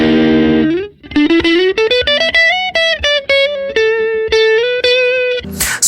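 Electric guitar played through a Fender Tone Master Pro modelling a '59 Bassman combo amp, bright sustained single notes and bends with slight grit, loud and close, alone with no talking.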